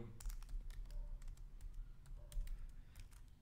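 Computer keyboard being typed on at a steady pace, a close run of light clicking keystrokes with a brief spoken word in the mix, while entering steel component data into a database.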